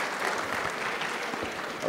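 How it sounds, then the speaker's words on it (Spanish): Audience applause at a talk, a steady, dense round of clapping from a seated crowd that lasts the whole moment, with no speech over it. "les pido por favor un aplauso para Germán."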